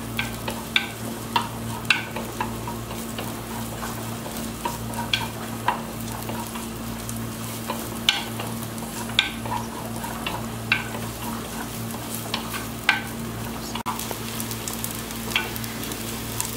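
Ingredients for a Kerala-style tuna fish curry sauté in coconut oil, producing a moderate, constant sizzle with regular stirring scrapes over a steady low background hum and no speech.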